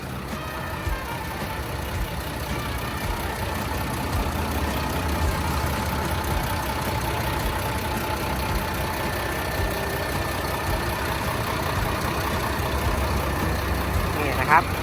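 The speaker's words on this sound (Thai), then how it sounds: "ใช้เครื่องเนี่ยเป็นเครื่อง6สูบนะครับ" A Mitsubishi MG500S grader's six-cylinder diesel engine idles steadily nearby, a continuous low rumble with a faint mechanical whine on top, holding an even level throughout.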